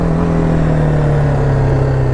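A BMW G310R motorcycle fitted with a full Akrapovic exhaust system idles steadily up close, a loud, even engine drone that holds without revving, and no one speaks.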